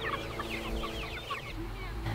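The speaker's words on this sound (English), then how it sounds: "Meat birds, 6 weeks old now." Six-week-old meat chickens cluck and chatter steadily at close range, a dense overlapping flock sound with no talking over it.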